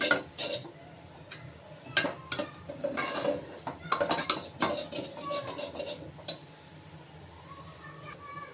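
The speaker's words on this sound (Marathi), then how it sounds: "हा मसाला मी आता याच्यामध्ये मस्त असा भाजून घेते" A spatula clatters and scrapes around a pan as homemade ghati masala roasts in oil over a low gas flame for a matar masala dish, with irregular close metallic knocks and a faint voice at times.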